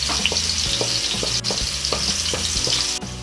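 Garlic frying in boiling cooking oil in a pan, a steady loud sizzle and crackle with repeated low knocks and scrapes of stirring, close up and without talk.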